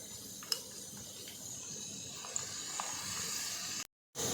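A medium onion, finely chopped, frying in hot oil for a dal mash recipe gives a steady, moderately loud sizzling hiss with a couple of faint clinks and a brief gap near the end.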